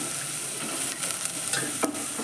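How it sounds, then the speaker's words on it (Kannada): Chili powder, salt and masala are stirred and fried in a pan for a green gram and dill palya, giving a steady close sizzle with scraping stirs throughout and no talk. "ಇದನ್ನೆಲ್ಲ ಚೆಂದ ಹುರ್ಕೋಬೇಕು ನೋಡಿರಿ"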